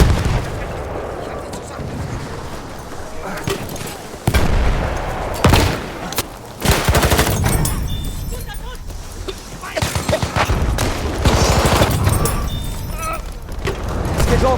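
Machine gun fire during a Battlefield 1 Conquest battle in the Argonne forest, dense rattling bursts mixed with booming explosions and shouted soldier voices, loud and continuous.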